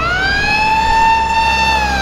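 A loud ambulance siren wails in a long sustained tone with rich harmonics, close and continuous, with low traffic rumble underneath, in Brazil.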